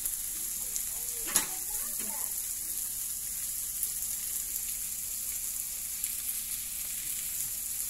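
Prawns stir-fry in a pan, giving a steady, close sizzle with the occasional clatter of a utensil, and a voice can be heard faintly in the background.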